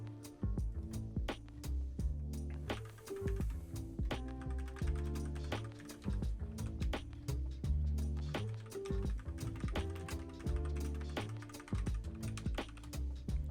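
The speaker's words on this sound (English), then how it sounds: "you can hear me furiously typing on Twitter right now" Rapid, furious typing on a computer keyboard, with dense clicking keystrokes under a continuous background of music or program audio.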